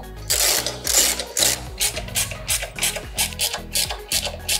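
Bolts on an Arrow exhaust fitted to a 2022 Yamaha MT-07 motorcycle being tightened, giving close, rhythmic bursts of mechanical whirring and clicking that repeat steadily, with no talking.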